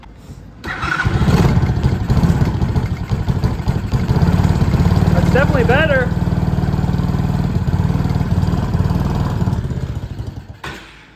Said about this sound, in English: It's maybe idling a little low, but that's definitely easier to start up than it was before